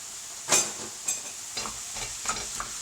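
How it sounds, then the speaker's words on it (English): Minced meat fries in a pan for a Bolognese sauce, giving a steady close sizzle and hiss broken by a few scraping stirs. "I'm adding my mincemeat to this, and I'm gonna fry my mincemeat 5 to 8 minutes"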